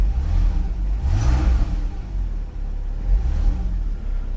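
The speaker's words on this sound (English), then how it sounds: "Now let me start it up. So it's got a beautiful flat 6 thrum to it." A Porsche 911 Carrera 4S Cabriolet flat-six starts and settles into a deep, rumbling idle with a brief rev swell, heard close up with no talk over it.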